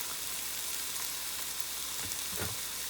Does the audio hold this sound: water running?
no